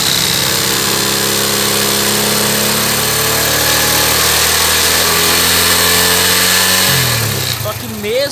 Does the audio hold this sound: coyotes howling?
no